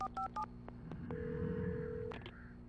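Three quick touch-tone beeps on a telephone in Alan Wake, then a single tick and a longer steady tone over low background music, fairly close and clear with no one talking.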